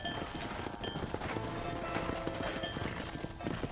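Horse hooves clip-clop across ground in the Western video game Red Dead Redemption, a rapid irregular patter mixed into busy game ambience and background noise at moderate level.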